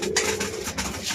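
Pigeons kept for racing and wedding releases coo softly in a brief, low, throaty burble of a few repeated notes.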